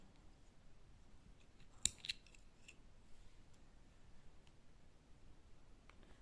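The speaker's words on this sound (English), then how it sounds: "I'm just going to chain 1 and cut my yarn" Scissors snip through crochet yarn at the end of a row of a lacy summer top, a couple of quick, faint clicks in an otherwise quiet room.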